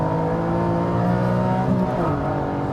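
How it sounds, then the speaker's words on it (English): A Porsche normally aspirated engine holds high RPM with a steady, rich, harmonic drone, pitch shifting slightly as it revs during driving, with no talk. "Engine likes the RPM up there."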